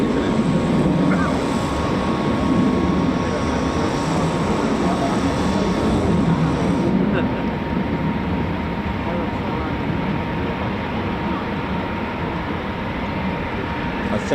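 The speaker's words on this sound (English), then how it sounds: "there's more Typhoons spooling" Eurofighter Typhoon FGR4 jets spool up at RAF Coningsby, a loud continuous engine roar with a steady whine running through it, easing slightly midway, while a voice talks over it.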